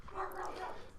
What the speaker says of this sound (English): Sorry if you hear some barking. I'm getting distracted by the dogs fighting in the hallway.